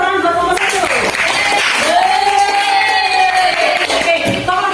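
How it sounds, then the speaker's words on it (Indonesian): A classroom applauds group 1 with clapping mixed with cheers and whoops, under a loud sustained voice that carries across the room. "Tepuk tangan buat kelompok 1."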